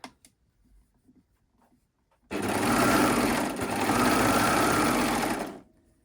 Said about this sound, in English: And then I'm going to overlock